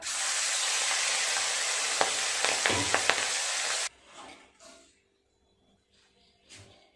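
Potatoes go into leftover oil from frying pomfret fish, giving a loud, bright hiss and sizzle for about four seconds before it cuts off abruptly to near quiet.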